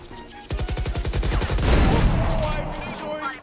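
Gunfire in the shooter game Valorant: a rapid burst of about a dozen evenly spaced shots, followed by a louder crashing blast that fades out.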